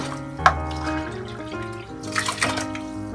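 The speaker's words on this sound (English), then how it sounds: "So over here I take 4 cups of water" Water pours steadily into a cooking pot to boil rice, a close splashing stream with a brief louder splash early on and a tonal hum in the background.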